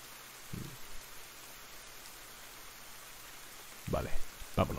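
Soft, steady rain falls in the video game Ender Lilies, a faint continuous hiss with a few brief louder bursts over it.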